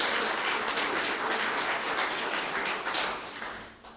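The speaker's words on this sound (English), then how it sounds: "applause" Applause from a forum audience welcoming an incoming chair, a dense, steady wash of many hands clapping that holds evenly before tapering off toward the end.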